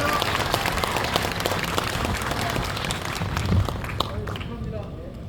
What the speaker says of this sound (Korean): 여러분들의 열화와 같은 박수와 함성 부탁드립니다.